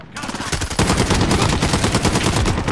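Gunfire from the Modern Warfare video game with a platinum light machine gun, a loud sustained burst of rapid automatic shots that rattles on close up. It has no talking.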